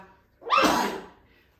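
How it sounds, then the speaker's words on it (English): A cameraman sneezes once, close to the microphone: a short, loud burst that fades quickly after a quiet moment. "Sorry, cameraman sneeze."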